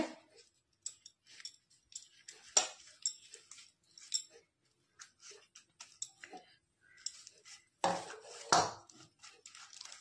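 Sweet pumpkin leaves being mixed into a batter in a bowl for pakoras, faint close squelching and light clicks of hand and bowl in irregular bursts, with brief silences between.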